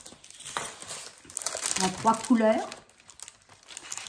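Sheets of glitter paper for a scrapbook album crinkle and rustle as they are handled, giving short, dry crackling bursts close up, while someone speaks briefly over the handling.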